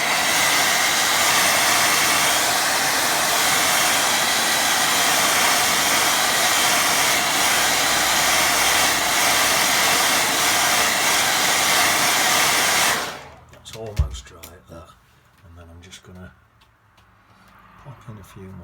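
Hair dryer blowing steadily and loudly close by for about thirteen seconds while drying a watercolour painting, then switching off into quiet handling noises and a faint voice.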